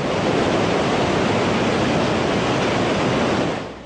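Tsunami seawater in Japan surging over a seawall, a loud, steady broadband roar of rushing water that holds constant throughout and eases off at the very end, with no voices.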